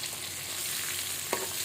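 Sharpunti fish frying in a pan, a steady close sizzle with a single sharp utensil clink near the end, no one speaking.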